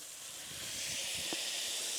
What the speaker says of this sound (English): love hearing that sizzle